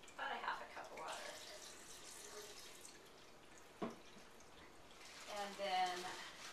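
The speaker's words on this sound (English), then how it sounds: "put about a half a cup of water" About half a cup of water is poured over blackberries and cherries in a blender, giving a faint, brief splashing trickle in a quiet kitchen.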